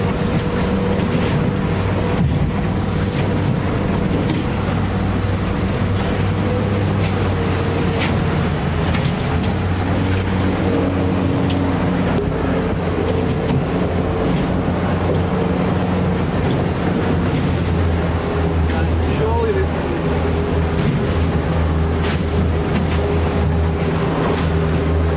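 A fishing boat's engine trolling at 3,000 RPM while chasing fast bluefin tuna: a loud, steady drone that holds unbroken throughout, mixed with rushing wind and water noise and no talk.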